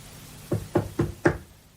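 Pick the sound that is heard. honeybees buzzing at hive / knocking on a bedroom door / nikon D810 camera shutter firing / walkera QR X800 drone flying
knocking on a bedroom door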